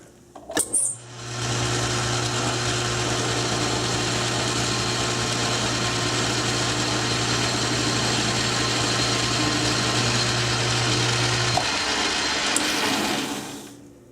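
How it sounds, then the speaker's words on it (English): A metal lathe takes a finishing pass on aluminum with a carbide insert, a steady, loud machining whine and hum holding for about ten seconds before spinning down; no one talks. "I'm going to try a finishing cut with the carbide, which usually doesn't like that"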